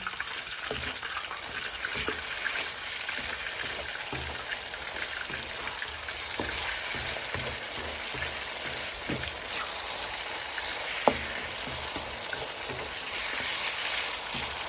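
Mushrooms sizzle steadily in a pan over medium-high gas for a chicken mushroom bhuna, a constant close hiss with occasional spatter pops and stirring clicks, no talking.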